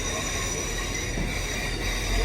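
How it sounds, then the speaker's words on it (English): Train 4016 pulls into a station in Northern Ireland with a steady, loud rumble of rolling wheels and rail noise throughout the short stretch. "Here comes our train, 4016."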